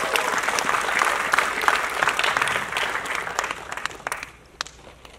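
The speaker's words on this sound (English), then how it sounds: "Can we give them a round of applause?" Audience applause at a film event, a steady broadband wash of many hands clapping that holds for several seconds, then thins and fades toward the end, with scattered individual claps.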